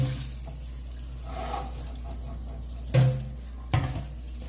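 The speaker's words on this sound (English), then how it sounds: "We're gonna rinse all this off." Tap water runs steadily into a kitchen sink while venison is rinsed under it, a continuous close splashing hiss broken by a couple of short clunks near the end.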